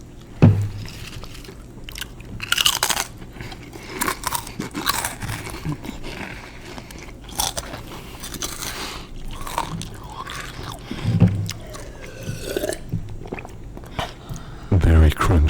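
Close, loud crunching and biting of Flamin' Hot Cheetos and Ruffles potato chips, with repeated crisp bites and chewing spread through the stretch, and some speech between them.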